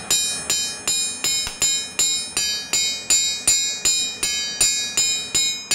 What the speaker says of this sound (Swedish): sen kan vi fortsätta att smida